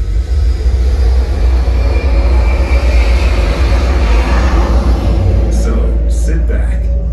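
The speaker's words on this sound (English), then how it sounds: "to the thunder of a jet engine." A jet engine's thunder in an IMAX home theater demo: a loud, deep, continuous roar with heavy low rumble that holds steady for several seconds.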